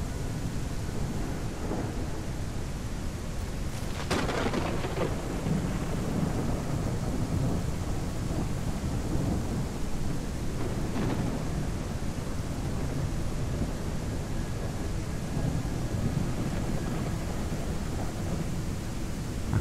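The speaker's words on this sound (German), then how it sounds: "Das sind schon krasse Blitze." Thunderstorm in The Isle Evrima dinosaur survival game: a constant loud wash of rain with a sharp thunder crack early on and further rolling rumbles later, with no voices.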